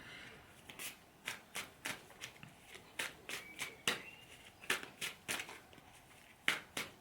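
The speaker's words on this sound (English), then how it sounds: "Let's just pull a couple of cards for him." Tarot cards being shuffled and pulled, a quick run of crisp riffling bursts in an irregular rhythm, close and fairly quiet, with no voices.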